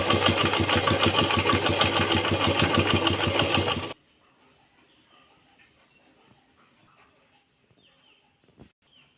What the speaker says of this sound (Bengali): তারপর এইভাবে মুড়ে সেলাই দিতে হবে।